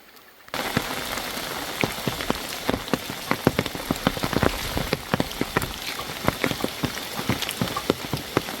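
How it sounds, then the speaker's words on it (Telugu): Steady rain patters down in a mountain village of huts, with dense drops striking surfaces close by, a constant wash broken by sharp individual splats. "వర్షం."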